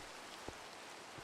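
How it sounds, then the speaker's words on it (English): Rain falls steadily in the Minecraft video game, a soft, even hiss with a couple of faint drop taps, heard alone at low volume. "Because it just happens to be raining."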